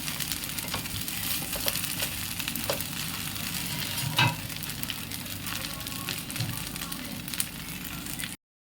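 Instant dosa with onion cooking on a hot pan, a steady close sizzle and crackle of frying batter throughout, with a brief clatter near the middle before it cuts off.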